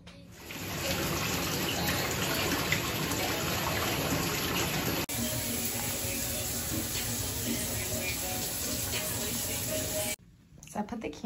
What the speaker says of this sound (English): I'm gonna take my shower while the bathtub fills up